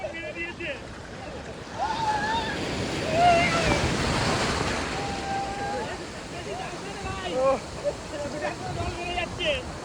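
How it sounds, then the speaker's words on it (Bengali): Sea waves surging onto the beach at Bakkhali, a steady rush of surf swelling and breaking under gusty wind noise, with people talking nearby. "ঢেউ বাড়ছে"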